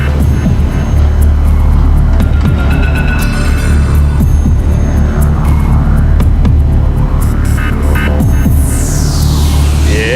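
Street stock race cars at a speedway heat roar continuously and loudly, engines droning and throbbing together as the field circles the track under caution.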